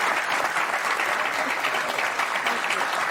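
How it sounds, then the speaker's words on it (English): Studio audience applause on a television talk show welcoming a guest, a loud, dense wash of clapping that holds steady throughout with no clear talk over it. "They didn't clap that loud for me."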